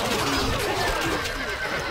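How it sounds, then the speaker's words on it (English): A horse neighs in the medieval strategy game Stronghold Crusader, a short whinny close and clear over light game ambience. "الفرس تعدو"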